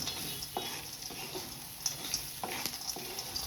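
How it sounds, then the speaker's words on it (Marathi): Fried sandge lentil dumplings stirred with masala in a hot pan for sandga bhaji, a steady sizzle under repeated scraping strokes of a spoon against the pan at an irregular rhythm. "हे सांडगे आणि हा मसाला मी आता छानपैकी असा एकत्र करून घेणार आहे"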